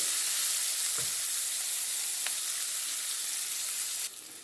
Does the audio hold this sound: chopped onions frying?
yes